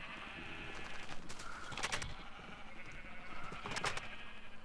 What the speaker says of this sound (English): Alright, let's lead all these sheep out of here.